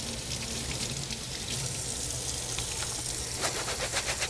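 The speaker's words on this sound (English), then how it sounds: "We're going to retrieve a paper towel to turn the faucet on." A faucet runs steadily into a sink while utility gloves are washed in a dental radiology operatory, a continuous close splashing flow.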